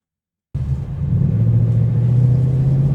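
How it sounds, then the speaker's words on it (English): A 2025 Ford Mustang GT Premium convertible rumbles at low speed while turning a full circle in a parking lot, its deep V8 burble starting abruptly and holding steady and close. "we're going to make a full circle to see how this vehicle turns around"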